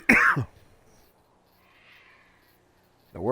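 A man clears his throat with a short, loud cough-like burst at the start, then near silence with faint background hiss before another voice-like sound begins at the end.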